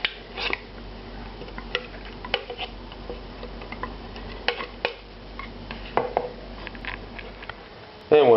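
Tomato puree being rubbed through a metal sieve while making tonkatsu sauce, a series of soft scraping and light clinking strokes at uneven intervals over a faint background hum.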